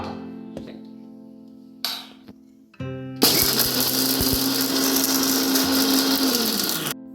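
Mixer grinder crushing green chili, cumin, garlic and curry leaves: a few short clicks and brief bursts, then a loud, steady high-pitched whirring grind running close for several seconds before winding down.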